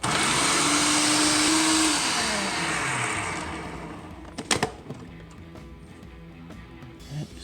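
A blender purees garlic cloves for tzatziki, a loud, close motor roar that runs steadily, drops in pitch as it slows and stops, followed by a few bumps and knocks of the jar.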